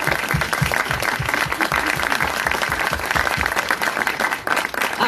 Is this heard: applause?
yes